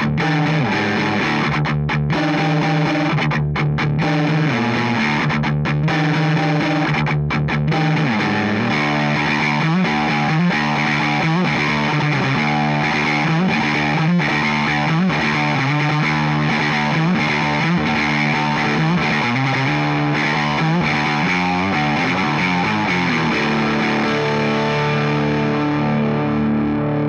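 Electric guitar with the middle pickup selected plays through a Pro Co Lil Rat distortion pedal with distortion at about ten o'clock, giving a thick, buzzing, sustained overdriven tone with chords and riffs ringing steadily for nearly half a minute.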